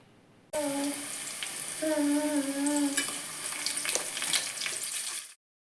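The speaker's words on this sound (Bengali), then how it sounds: "আমি কিন্তু প্রথমে আদা রসুন বাটাটা একটু ভেজে নিয়েছি জাস্ট একটু মানে কাঁচা গন্ধটা যাওয়ার জন্য" Ginger garlic paste with turmeric and chili hits hot oil in a pan with a sudden loud sizzle that stays steady and bright for several seconds, with some stirring clatter, then stops sharply.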